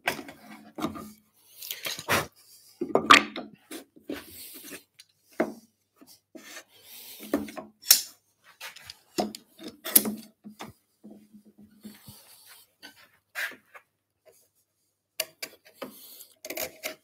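A chisel pares wood to cut a halving joint, bevel downwards, giving short, quiet scraping and rasping strokes separated by pauses, with occasional knocks, close by and alone.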